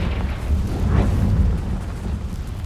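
Explosion spells such as Bombarda and Confringo in the Hogwarts Legacy video game: a deep, rumbling burst that swells near the one-second mark and rolls off into a low, fading boom, with no talk over it.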